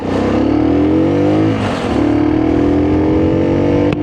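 A Lexmoto RX1 motorcycle pulls away uphill in first gear, its engine loud and close. The revving note climbs steadily, dips briefly near the middle, then rises again to a sustained drone.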